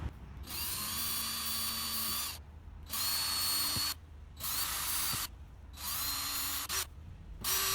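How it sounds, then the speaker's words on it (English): Power drill boring pilot holes into a recycled bamboo worktop being made into a chopping board, four close whining bursts of a couple of seconds each, separated by short pauses, with faint ratcheting between them. "then we'll drill those pilot holes."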